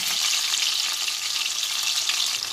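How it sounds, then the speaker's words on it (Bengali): Marinated, shredded chicken pieces fry in oil in a wok over medium-high heat, producing a loud, dense, continuous sizzle that stays even and close throughout, with no talking. "এই চিকেন পিসগুলোকে অ্যাড করে আমি কিছুক্ষণ ভেজে নেব"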